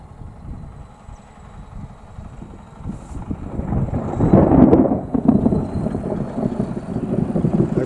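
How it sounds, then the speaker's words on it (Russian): Thunder from a rainy rural sky over green fields, a low rumble building and swelling to a loud peak midway, then rolling on with wind noise, fairly distant and broad. "Это гром."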